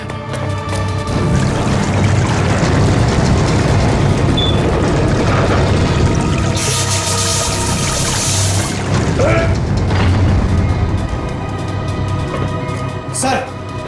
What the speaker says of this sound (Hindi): सबमरीन में दरार आ गई सर, पानी तेजी से नीचे आ रहा है।